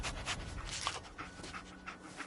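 Dog panting in Fallout 4, quick rhythmic breaths repeating steadily across the short stretch, fairly close and moderately loud with no talk over it.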